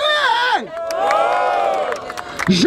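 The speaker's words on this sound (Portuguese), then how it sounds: "Plateia, barulho para as rimas do 93B!" Rap battle crowd at the Batalha da Aldeia in Barueri cheers and shouts loudly for a rhyme, a sustained roar of many voices with a whooping rise near the end.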